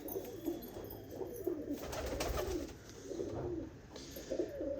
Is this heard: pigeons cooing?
yes